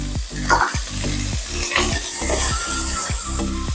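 Green chillies, ginger and cashew pieces fry in a pan while being stirred, giving a loud, steady sizzle with repeated scraping strokes of the spoon.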